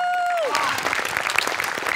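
Applause from the audience at a Marathi comedy stage show after a skit: a short music tone slides down and fades, then dense, steady clapping fills the rest, loud and close.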